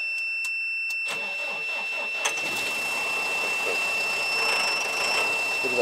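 A GAZ Gazon truck's diesel engine cranks with a few sharp clicks, then catches and settles into a steady rough idle, heard close and fairly loud without talk.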